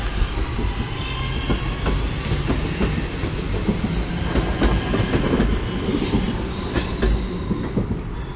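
A British Rail Class 323 electric train runs at Manchester Piccadilly station, a loud, steady rumble of wheels on rail with repeated clickety-clack joints and occasional squeals, close by and continuous with no talk.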